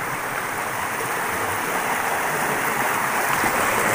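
River water rushes steadily and loudly near the Watu Krapyak waterfall in Indonesia, a dense, continuous broadband flow that stays even throughout with no voices.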